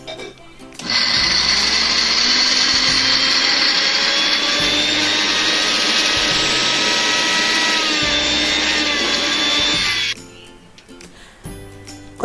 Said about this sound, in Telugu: జీలకర్ర, పచ్చిమిర్చి, వెల్లుల్లి రేకలు కూడా ఇవి కొంచెం కోసుగా మిక్సీ పట్టుకుందాం